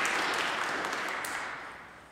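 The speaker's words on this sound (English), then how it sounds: "Let's praise the Lord with our clap." A church congregation claps together during a Sunday worship service, a dense wash of many hands that stays steady and fairly loud, then fades slightly toward the end, with no voices over it.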